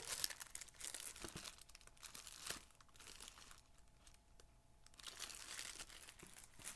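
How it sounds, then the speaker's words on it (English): Roll of heavy duty aluminum foil handled up close, with continuous crinkling and crackling that swells and fades, loudest at the start and end with a quieter stretch in the middle. "Heavy duty aluminum foil."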